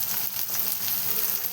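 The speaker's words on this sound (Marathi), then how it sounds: "इथं बघा एक कांदा आणि बघा कांद्याच्या नंतर एक टमाटर टाकून घेतला आपण मस्त" Onion and tomato sizzle in a hot pan for a village-style besan dish, a steady, close frying hiss with no voices over it.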